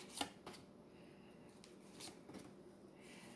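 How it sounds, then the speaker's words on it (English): Tarot cards being shuffled and drawn from a deck, soft close riffling and brief card slaps, quiet with pauses between. "We're going to pull a few more cards."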